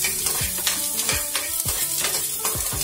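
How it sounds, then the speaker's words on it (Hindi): Garlic chutney ingredients roast in a pan, with a spoon stirring and scraping in repeated close strokes over a steady sizzle. "इस तरीके से हम 30 सेकेंड तक इसको भुनेंगे।"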